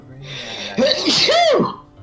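A single loud sneeze, a quick breathy intake followed by a sharp, explosive burst, close to the listener.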